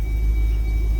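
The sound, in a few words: car engine running after being started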